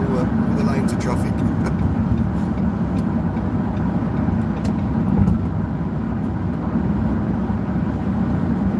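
A small car weaves through several lanes of busy road traffic. The engine and traffic noise form a continuous loud roar, and a voice talks over it.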